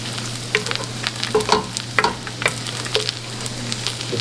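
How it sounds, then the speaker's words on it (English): Gumbo roux being stirred in a pot on a stove, with a steady sizzle and frying hiss broken by repeated scraping spoon strokes, close and alone. "Look at it getting darker as I stir this around"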